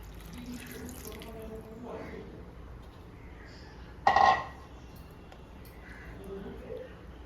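Thin coconut milk is poured into a pot of meat and potatoes, a quiet, steady liquid trickle with one brief, louder splash midway.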